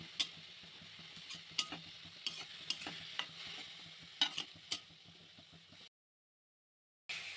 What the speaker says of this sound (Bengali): মেথি শাকটা অল্প নুন হলুদ দিয়ে হালকা করে ভেজে তুলে নেব।